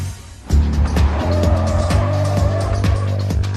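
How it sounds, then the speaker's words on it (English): A suspect car in a police pursuit spins out as its rear wheels lose traction, with a loud, close engine roar and sustained tire squeal that starts abruptly and holds steady to the end. "This causes the rear wheels of the suspect to lose traction, resulting in a spin-out."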